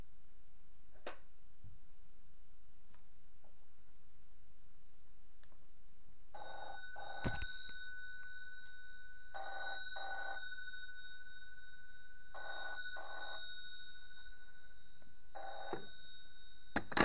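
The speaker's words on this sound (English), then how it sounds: "The bell box does ring. I'll quickly get a ring going." A PMG 232 telephone bell box rings in several bursts of double rings, bright metallic trilling spaced a few seconds apart after a quiet start with faint clicks.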